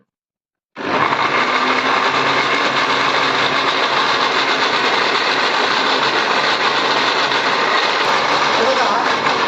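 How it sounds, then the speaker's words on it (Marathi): An electric mixer grinder whirs at full speed, blending dates and almonds with a little milk for a milkshake. It starts abruptly after a short silence and runs as a loud, steady roar to the end. "थोडंसं दूध घालून मी आता थोडंसं त्याची हे करून घेणार आणि मग जास्तीचं दूध घालून आपण ते क्रश करायचं"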